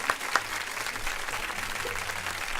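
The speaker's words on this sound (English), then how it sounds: "So come on, can we give her a round of applause?" A round of applause from an audience at a studio taping, steady and moderately loud throughout, with a few sharper claps near the start and faint voices underneath.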